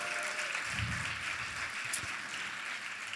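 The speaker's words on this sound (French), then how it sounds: "on les applaudit" Cabaret audience applauding for the performers at an anniversary show, a steady wash of clapping from a packed room that holds at an even level throughout, with no voices on top.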